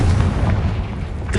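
Casting the Confringo spell in Hogwarts Legacy sets off a loud, close, booming blast that rumbles on for a moment before fading.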